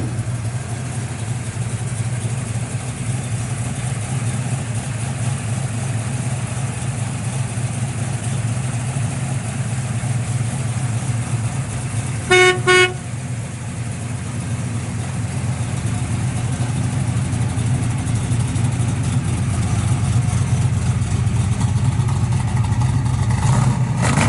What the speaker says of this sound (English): We'll fire this thing up. Fires right up, got a nice cam.